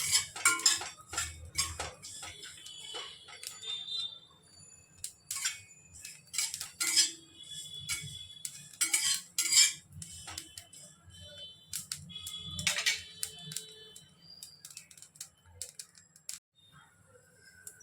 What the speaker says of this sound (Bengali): যতক্ষণ না ভাজা ভাজা গন্ধ বেরোবে ততক্ষণ আমরা একটু নেড়ে নেব ভালো করে